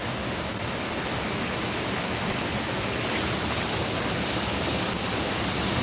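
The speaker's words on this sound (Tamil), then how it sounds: "கேரளாவில் அதிராம்பள்ளி ஃபால்ஸ் வந்திருக்கோம் பாருங்கள் ஃபால்ஸை காமிக்கிறேன்" Athirappilly waterfall in Kerala pours with a continuous, broad roar of falling water, loud and steady from start to finish, with no voices over it.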